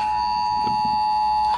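Emergency flash flood warning alert tone from a phone, a loud steady high-pitched beep with harmonics held for almost two seconds, ending abruptly, heard alone and close by.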